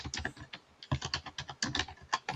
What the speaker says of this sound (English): pretend you're typing right now with the typing noise